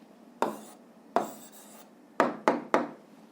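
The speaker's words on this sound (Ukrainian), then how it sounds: "записуємо відповідь, пишемо відповідь" Pen or chalk strokes writing out the answer to a school physics problem, five short scratchy taps with decaying tails, two spaced apart and then three in quicker succession, close with no speech.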